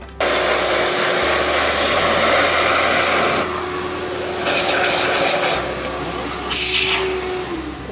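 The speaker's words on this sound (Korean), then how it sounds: "이렇 털고 청소기로 얘를 한번 싹 빨아들여줍니다" A household vacuum cleaner sucks up leftover coffee grounds and fine powder from a disassembled coffee grinder's chamber, a steady loud whooshing drone that shifts in pitch as the nozzle moves, running continuously with no talk.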